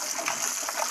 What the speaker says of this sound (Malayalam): രണ്ട് മൂന്ന് പ്രാവശ്യം കഴുകി, നല്ല വെള്ളത്തിൽ